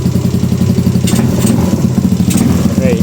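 Motorcycle engine idling after being started to warm up, a steady, close, throbbing putter with a slight mechanical clatter that runs without a break.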